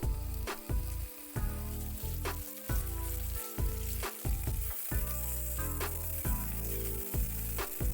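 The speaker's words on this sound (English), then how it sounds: "This is sesame oil and avocado oil. We'll start by browning the beef." Beef browning in a pan of sesame and avocado oil for gochujang stew, a loud, steady close sizzle with crackling pops throughout and no voices.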